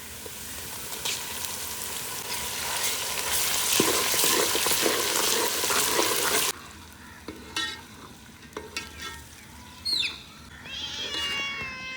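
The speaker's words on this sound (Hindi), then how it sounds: "इधर प्याज सुनहरी हो गया, इसमें डालेंगे अदरक लहसुन का पेस्ट" Chopped onions frying to golden in hot oil in a home kitchen pan, with ginger garlic paste then added; a loud, steady sizzle and stirring hiss that cuts off abruptly, followed by quieter clinks and scraping.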